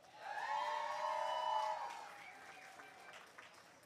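Crowd at a USC graduate commencement ceremony applauds the graduates, a sustained cheer or whoop riding over steady clapping that swells early then slowly fades, all heard from a distance in a large space.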